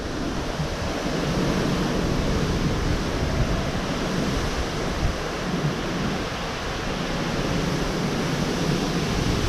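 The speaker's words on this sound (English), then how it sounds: "That was 80-mile-per-hour gust right there." Roaring 80 mph wind gust blowing steadily and loudly outdoors, a dense broadband rush with surging swells and microphone buffeting across the whole stretch, no voices.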